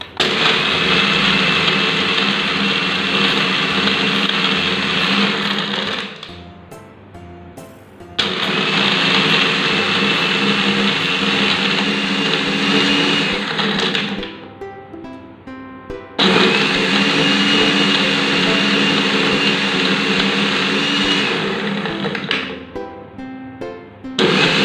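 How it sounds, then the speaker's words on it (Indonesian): A Cosmos CB 802 blender crushes ice cubes in water, running loud and rattling in three long bursts with short quieter gaps between them. "Aku mau coba gimana hasilnya pakai blender ini, apakah dia bisa untuk menghancurkan es batu atau enggak."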